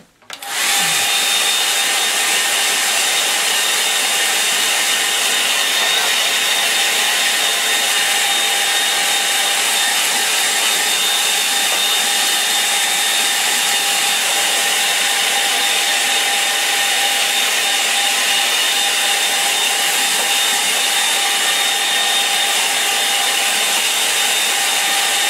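A hair dryer drying a watercolour painting switches on and blows in a continuous loud, steady whoosh with a faint whine, running close and unbroken throughout.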